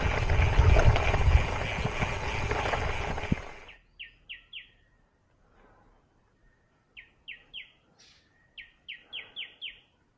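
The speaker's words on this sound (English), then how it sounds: "Just listening to the birds." Birds chirp in short bursts of high, repeated notes among bamboo and bananas after a loud rumbling noise fades out, the calls clear against a quiet background.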